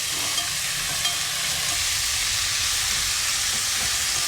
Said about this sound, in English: I'm just going to stir them up. We got a little bit of color on one side.